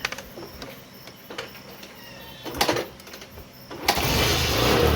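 A Bajaj Discover 100 cc motorcycle engine cranks with a few short bursts, then starts and settles into a steady close, loud idle.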